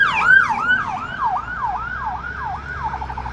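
An ambulance siren wails in repeated rising-and-falling sweeps, loud and close, with faint road traffic rumbling beneath and no talk.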